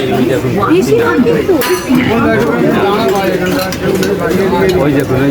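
Plates and cutlery clink while khichuri with begun sundori is served at Arunda's Joy Mata hotel, sharp close taps and scrapes scattered under steady talking.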